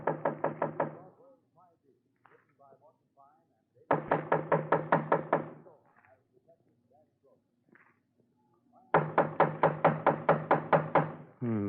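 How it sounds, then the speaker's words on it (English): Three loud bursts of rapid knocking on a door, each about ten to twelve sharp raps, separated by pauses with faint background sounds in an old radio crime drama. "Just knock on the door"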